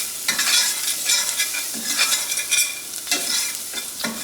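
Spices and onion stirred into sizzling butter in a pan for a from-scratch cheese manicotti sauce, a steady close sizzle broken by repeated scraping strokes of the spoon, with no talking.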